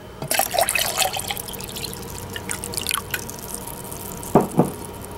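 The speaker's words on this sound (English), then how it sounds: "I'm going to dump in some of my electrolyte solution." Electrolyte solution poured into distilled water in an HHO setup, heard as scattered faint drips and trickles with two louder splashing drops near the end, no talk.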